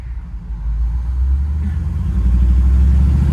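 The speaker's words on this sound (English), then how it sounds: "That dual exhaust really gives it a good rumble" A 1978 Chevrolet Malibu Classic with dual exhaust rumbles close by, a deep loud engine drone that swells slightly stronger toward the end, with no talk.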